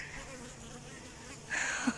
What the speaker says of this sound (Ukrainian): бджоли йдуть з пилком